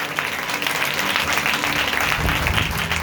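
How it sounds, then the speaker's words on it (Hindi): A church congregation at a Hindi-language sermon claps loudly and steadily, a dense and continuous round of applause with a voice faintly heard over it. "जोरदार हाथों को उठा के ताली बजाइए।"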